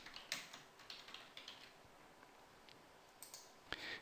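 Quick keystrokes on a computer keyboard while typing a name in all capitals, a steady run of light clicks with a few sharper taps, close and fairly quiet with no voices.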